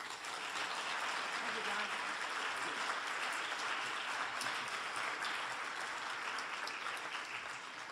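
Sustained audience applause welcomes keynote speaker Professor Martin E. Marty at a lecture on children's rights, a dense, steady wash of clapping filling the whole stretch at even loudness.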